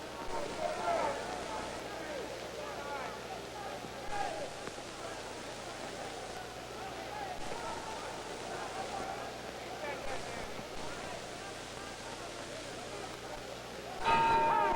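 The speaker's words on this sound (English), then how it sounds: "There's the bell ending round 2." A boxing bell rings near the end of a 1964 bout to close round 2, short and bright over steady crowd noise and ringside commentary.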